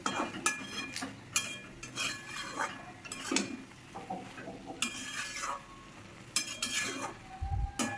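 A hilsa fish head sizzles in hot oil in a pan while being stirred, with repeated scraping and clinking of a utensil against the pan in irregular strokes, close and moderately loud.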